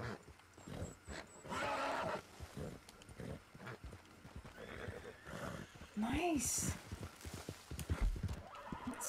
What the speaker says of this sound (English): No way. We got a wild horse.